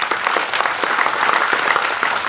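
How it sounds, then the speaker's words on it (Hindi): Crowd applause at a political speech during an election event, steady, dense clapping from many hands, fairly close and continuous for a couple of seconds without speech. "थोड़ा ताली हो जाए।"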